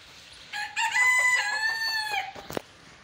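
A rooster on a small farm crows one long, loud, close call, with a couple of brief chicken clucks at the end and no talk.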